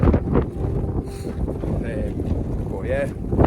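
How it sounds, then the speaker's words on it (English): Strong wind of 50 mph or more buffets the microphone in a low, continuous rumble, with a few faint whistling tones on top, at Red Tarn. "Very windy."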